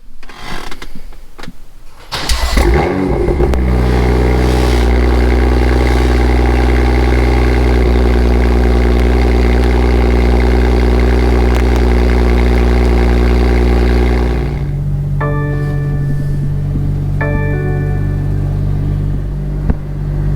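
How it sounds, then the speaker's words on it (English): A BMW M2 cold-starts with a sharp crank and loud bark, then settles into a steady, close, high idle rumble that drops slightly lower near the end, with faint chimes over it. "let's crank this car up"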